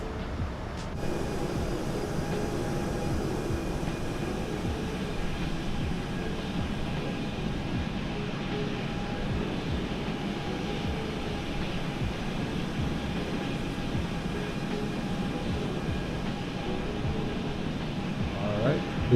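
A PMDG Boeing 737-800 airliner in flight in the MSFS 2020 simulator: a steady, even cabin drone of engines and airflow with faint tonal hums, unchanging for the whole stretch.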